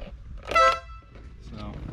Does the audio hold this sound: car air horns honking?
yes